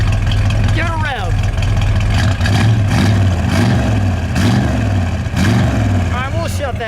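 A 1972 Plymouth Duster 340 V8 with under 25,000 original miles revs indoors: a loud, steady low engine rumble swells in several throttle blips over the idle while voices talk over it.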